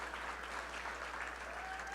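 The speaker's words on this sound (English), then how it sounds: "How about a round of applause for them?" Audience applause at a medical device demo day, steady dense clapping throughout at a moderate distance, with no talk over it.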